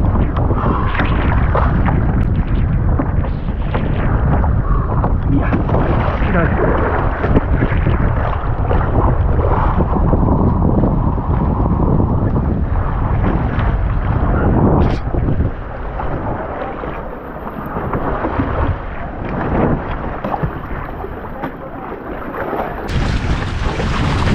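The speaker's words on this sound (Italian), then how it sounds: "il vento è forte" Strong wind while wing foiling roars and buffets the microphone steadily throughout, loud and broadband with constant gusting rumble and no voices.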